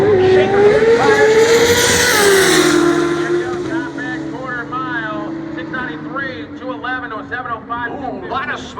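Drag race cars launching at an XDA event, a loud engine roar sweeping in pitch at the start, then fading as they speed down the track while an excited commentator talks over it.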